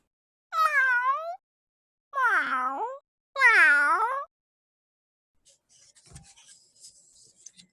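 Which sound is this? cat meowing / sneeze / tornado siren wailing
cat meowing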